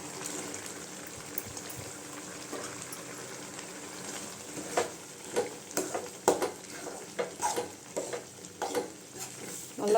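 Turnip berry kootu with cooked moong dal being stirred in a pot, a steady bubbling simmer with soft sizzling and a run of distinct scraping, stirring knocks in the second half.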